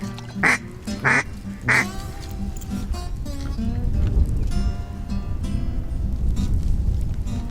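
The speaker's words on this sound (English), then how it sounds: "There's a mallard right here." Nearby mallard ducks quack in loud bursts at a Vicksburg timber hunting spot. Three sharp calls come first, then a faster run of softer chatter over a rumbling background.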